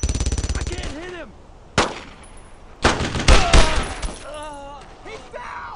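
A Thompson submachine gun in Brothers in Arms fires in rapid bursts, loud and close, between shouted voices and falling whistle-like effects in a World War II battle.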